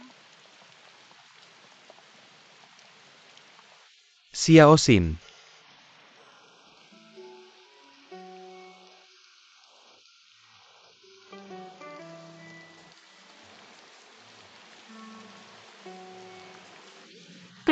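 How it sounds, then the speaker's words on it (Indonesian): Heavy rain pours down steadily as a constant hiss throughout, with a sudden loud burst partway through and a few brief voices speaking under the downpour. "Hujan deras sekali."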